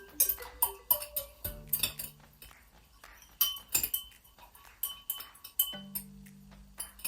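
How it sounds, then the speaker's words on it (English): A teaspoon clinks against a glass as hot water is stirred to warm it, a quick run of small bright taps and chimes, close and fairly quiet, with brief pauses and a low hum in the background. "I'm just going to stir it around"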